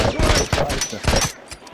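Rapid bursts of gunfire from The Last of Us video game during a competitive match, several close, loud shots packed into under two seconds with thudding impacts between them.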